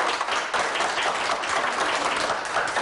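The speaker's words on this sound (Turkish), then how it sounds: "tüm 52 ailesine bir alkış rica edelim" Dense, continuous applause from an audience in a studio or hall, an even wash of many hands clapping at once without a break.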